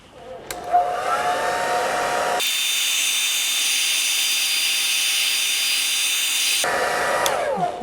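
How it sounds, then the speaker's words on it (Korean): A hair dryer blows steadily for about four seconds to dry freshly brushed varnish coating on a pop art piece, a loud, even whooshing roar that starts and stops abruptly. "그러면은 드라이기로 한번 건조를 시켜볼게요."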